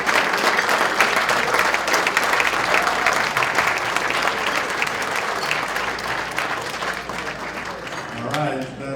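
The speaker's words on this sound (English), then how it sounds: "how about one more huge round of applause for our three honorees tonight." Loud, dense applause from an awards-night audience honoring the year's man, woman and student honorees, sustained clapping that tapers near the end as a voice begins speaking.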